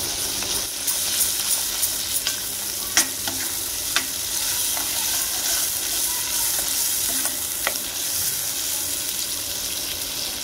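Spice paste is stirred and fried in a pan, with a soft, continuous sizzle and occasional scrapes and taps of the spoon against the pan, close up and without any voices.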